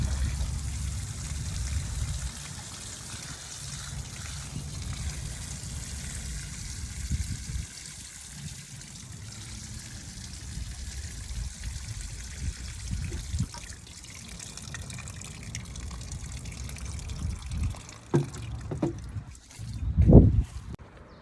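A steady trickle of water runs on for a long stretch outdoors as trees are watered on a hot day, with a low rumble underneath and a few sharper splashes near the end.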